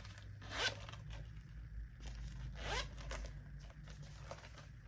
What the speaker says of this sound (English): on the back, we have this generous zipper pocket